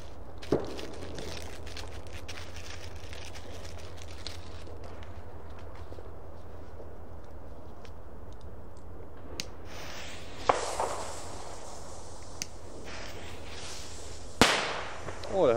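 Several sharp bangs from Lesli Chinese firecrackers pop out from a steady background hiss, scattered irregularly with a couple of louder cracks toward the end.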